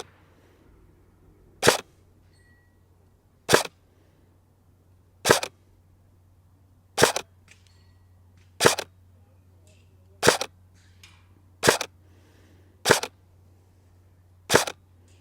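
An Arcturus GR16 MOD5 HK416 airsoft rifle fires 0.32 g BBs: about nine crisp, loud single shots, evenly spaced roughly every second and a half, over a low steady hum.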